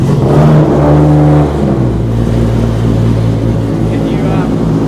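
A 1000hp BMW E92 M3 drift car with a swapped RB26 engine comes to life, its low, loud engine note rumbling and shifting as it settles into a steady idle, with people talking nearby.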